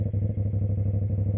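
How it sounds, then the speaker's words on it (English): A 450ss motorcycle with a loud exhaust idles close by, its low, throbbing pulse steady and even with a slight mechanical clatter and no talk over it. "this exhaust is definitely louder"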